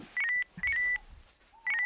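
A video game's text message alert chimes as a short electronic beep pattern, repeated three times with brief gaps, clean and fairly loud with no voices.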